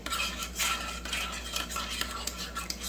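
A spoon stirs colored yogurt in a bowl, giving soft, quick scraping and clinking strokes in a steady rhythm, faint and close with no voices.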